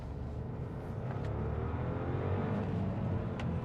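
A 2018 Audi A3 1.0 TFSI S Line saloon with its one-litre three-cylinder engine pulls steadily under acceleration on a country road, a continuous, close, even drone with a gently rising note throughout.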